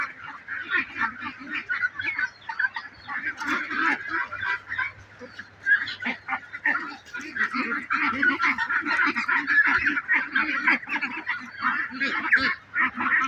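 A flock of large geese, each weighing 4 to 5 kg, honking continuously and loudly in Narayanganj district, Bangladesh, many overlapping calls close by with no pauses.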